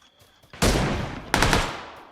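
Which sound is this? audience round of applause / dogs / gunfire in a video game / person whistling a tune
gunfire in a video game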